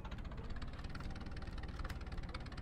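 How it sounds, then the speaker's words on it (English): A tractor engine in Arma: Cold War Assault runs steadily with a rough, knocking idle throughout, loud and close, with no talking. "we're going to get in the tractor"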